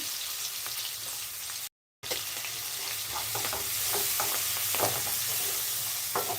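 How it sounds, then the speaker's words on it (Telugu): Fenugreek leaves stirred into a frying pan while cooking an okra tamarind stew. A steady loud sizzle hisses throughout, broken once by a brief gap, with scraping stirs on top. "అది కాస్త మెంతి కూర కూడా వేస్తున్నాను"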